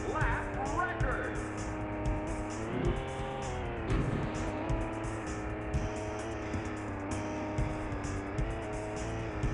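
Powerboat engines in the PS1 racing game VR Sports Powerboat Racing, monohull championship: a continuous droning, revving engine tone that rises and falls, with game sounds and music layered over it and a person talking throughout.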